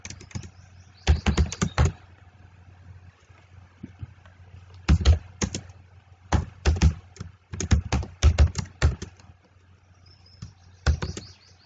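Someone types code on a computer keyboard: close, brisk bursts of clattering keystrokes separated by pauses, with no talk over the tapping.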